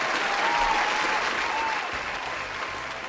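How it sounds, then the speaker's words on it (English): Crowd applause sound effect used during a sports talk show segment, a dense burst of clapping and cheering that stays full for a couple of seconds, then thins and fades slightly toward the end. "Let's give it a cheer."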